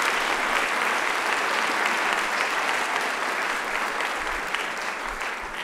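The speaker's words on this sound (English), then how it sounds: "that deserves a clap." An audience in a large hall claps at a college fall opening meeting, a broad, sustained wash of applause at steady loudness from start to finish.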